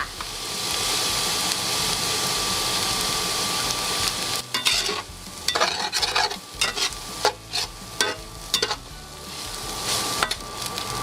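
Rice being stir-fried in a pan with sugar, soy sauce and seasoning powder, with continuous loud sizzling and a steady hiss, then repeated scraping strokes of a spatula against the pan in the second half.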